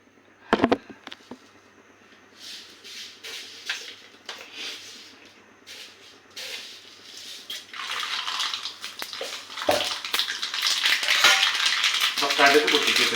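Mustard seeds splutter in hot oil for a curry tempering, with dense popping crackles. The sizzle starts faint and sparse, with a few utensil clinks, then grows into loud, continuous spattering.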